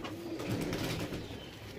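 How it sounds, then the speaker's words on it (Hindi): A pair of Jira breed pigeons coo softly, close by and quietly, in a brief low murmuring call. "ये जीरा कबूतर है, प्योर पंजाबी"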